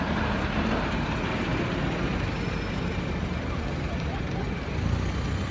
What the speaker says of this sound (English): As you can see, a lot of buses are going around